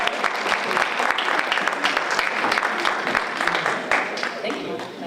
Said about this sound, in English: let's give a round of applause for my friend,